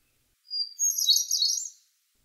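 A hermit thrush sings one clear, high, ethereal phrase: a sustained opening note followed by a rapid fluting cascade, alone against silence.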